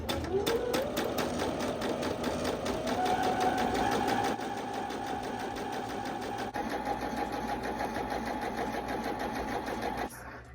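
A Brother CS5055 PRW sewing machine runs a straight stitch through cotton muslin, a steady rapid needle clatter and motor whir ramping up then holding speed for several seconds before stopping.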